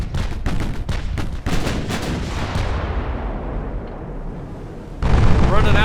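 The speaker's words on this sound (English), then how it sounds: "The main guns are firing in one place, and the secondaries are firing the other." Battleship main and secondary guns firing in Ultimate Admiral Dreadnoughts, a loud run of booming shots in quick succession that fades into a rumbling tail before a fresh heavy blast near the end, with a voice talking over it.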